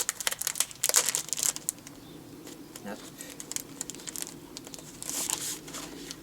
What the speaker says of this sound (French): Là je vais ouvrir pour voir un peu l'épaisseur du papier.